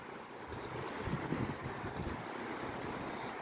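Wind buffets the microphone at a black sand beach, with soft, faint wave wash in a low, steady rush.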